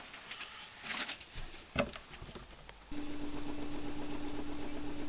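A wood lathe spins a rough yew bowl blank with a heavy split at about 475 RPM, starting abruptly after scattered handling sounds and then holding a steady, close, rhythmic hum with a fluttering pulse.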